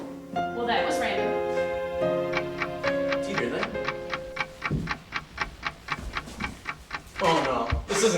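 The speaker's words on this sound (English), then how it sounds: "It's not your average alarm clock, it's a time bomb." A time bomb disguised as an alarm clock ticks in a fast, even rhythm of sharp clicks, with a speaking voice and music-like tones layered over the first half before the ticking carries on alone.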